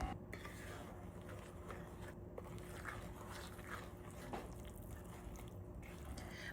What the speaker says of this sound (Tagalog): Dagdag na tayo ng 1 cup dark chocolate para hindi masyado matamis. Mix lang natin hanggang matunaw.